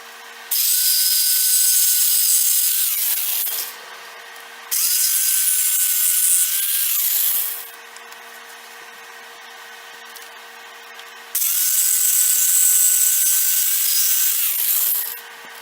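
A power tool trims wooden stock for a kitchen utensil replacement handle, running in three long loud bursts of a few seconds each with a steady whine, separated by quieter pauses.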